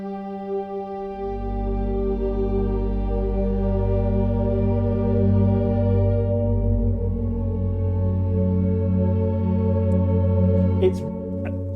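A heavy, sustained guitar chord sampled through a huge wall of amplifier cabinets rings out thick and loud, droning steadily with a deep low end before a brief scrape near the end.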